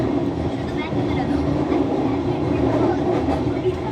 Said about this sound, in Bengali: ট্রেনটা আমাদের একটার পর একটা টানেল ক্রস করে চলেছে